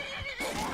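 A brief horse whinny in a video game, fairly quiet, with a high wavering tone.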